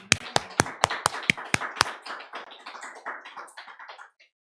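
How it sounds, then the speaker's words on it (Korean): A Korean church congregation at a Sunday worship service claps: a string of sharp, evenly spaced claps comes first, then thins into scattered, softer clapping that fades out within a few seconds. "다 영광의 박수 하나님께"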